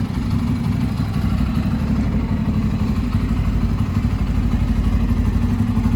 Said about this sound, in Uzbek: Yerda motor yurib turibdi hozir.